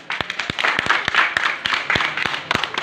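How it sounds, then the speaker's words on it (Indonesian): A church congregation claps steadily, a mix of sharp individual claps and a dense patter of applause, with no one speaking. "tepuk tangan buat Dia."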